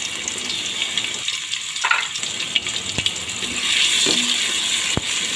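A cup of chopped onion and half a cup of garlic hit a cup of hot cooking oil, giving a steady, close sizzle with a few sharp clicks and pops.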